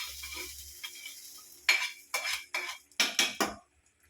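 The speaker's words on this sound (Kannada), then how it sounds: "ಈ ಒಗ್ಗರಣೆನ ಇದಕ್ಕೆ ಸೇರಿಸ್ಕೊಳ್ತಾ ಇದ್ದೀನಿ" A spoon stirs tempering into batani khara pongal in a pot, giving a series of about six sharp metallic scrapes and clinks in uneven rhythm, close and clear, after a brief faint sizzle.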